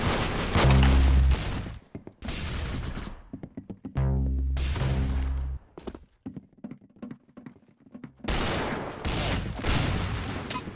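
A shooting game fires bursts of gunshots amid loud electronic game tones, the shots loud and clipped, separated by short pauses.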